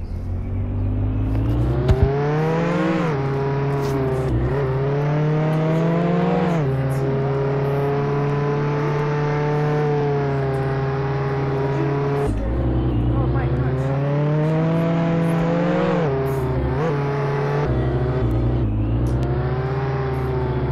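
Engine noise from a car driving in the Roblox game Jailbreak, a steady rising and falling tone that runs throughout at moderate loudness, with people talking over it.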